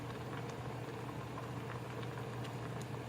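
A pot of yellowtail offal in dark soy sauce simmers quietly, giving a soft, steady bubbling and faint popping with no talking.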